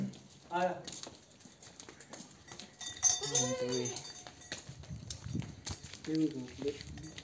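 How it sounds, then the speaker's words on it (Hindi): Sheep and goats on a large goat-rearing farm, with several bleats rising above nearby talk and some hoof clatter, mixed with ongoing speech throughout. "ये देखो भेड़ आती है सामने"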